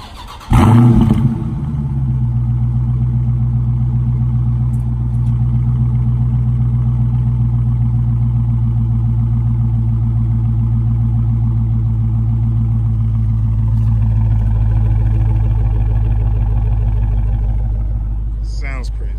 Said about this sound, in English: let's do this cold start